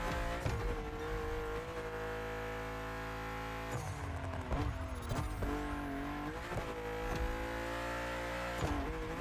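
A BMW M2 sliding and skidding in The Crew Motorfest: a steady engine drone with rising and falling pitch, laced with tire squeal and scrubbing bursts as the car loses grip, loud and continuous.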